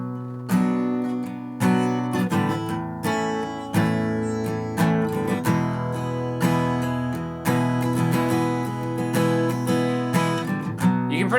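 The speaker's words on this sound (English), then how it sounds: "So if you just want to strum it, we can do it and have it sound like this." An acoustic guitar is strummed steadily through three repeating chords of a song, bright and close, with no voices.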